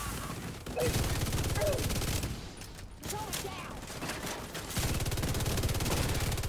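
Rapid automatic gunfire in a video game as enemies are shot, dense bursts of repeated shots in several runs with short pauses between them, loud and close.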